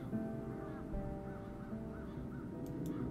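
Crows cawing in the fantasy adventure game Chains of Satinav, several harsh caws repeating at a steady pace against a quiet ambient backdrop, moderately near and without talk.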